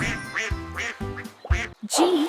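A cartoonish duck quacks in quick bursts with a rhythmic, sing-song bounce, several loud nasal calls in a row and a brief pause before the last, in a phonics alphabet song setting.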